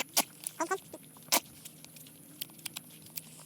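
Chickens on a rural forest-edge homestead give a few short clucks and squawks, nearby but fairly soft, with scattered ticks and rustles in a quiet outdoor setting.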